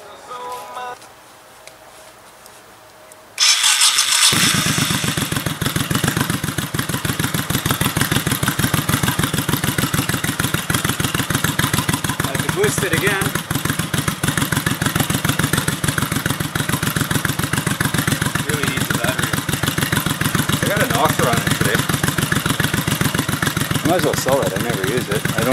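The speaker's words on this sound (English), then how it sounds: "I got my ramp set up to drive the bike in" A motorcycle engine starts up and runs steadily and loudly close by as the bike is driven up a ramp into a corner, a continuous engine drone that fills the whole clip after a quiet opening.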